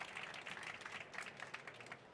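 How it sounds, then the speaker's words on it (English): Conference audience at South Summit 2019 applauding a panel, a brief, faint, steady patter of clapping from a crowd. "Can I ask you guys for a big pre-lunch round of applause, please, for Agustín and his panel?"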